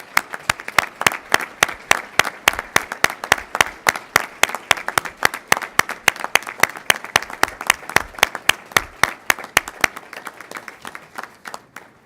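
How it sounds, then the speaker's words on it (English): Graduates applauding their families at a Saint Mary's University of Minnesota graduation ceremony, a large hall full of steady, dense clapping that holds evenly for about ten seconds before cutting off. "thank them by a round of applause yourselves to them for all they've done for you"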